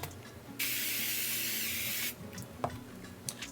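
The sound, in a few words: Pat McGrath Glass 001 glow setting spray being sprayed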